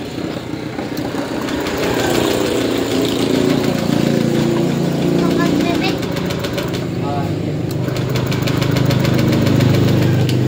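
Honda Beat Fi scooter engine with a wiring fault and blowing ECU fuse, struggling to start: loud, close mechanical churning and rough knocking that runs continuously without settling into a clean idle.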